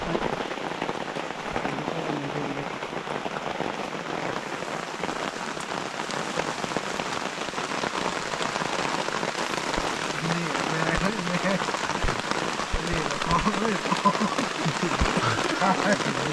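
Rain falls steadily at night, around two in the morning, a dense continuous patter on surfaces holding an even level throughout with no pauses.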